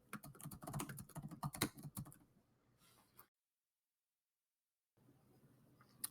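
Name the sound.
typing a template name on a computer keyboard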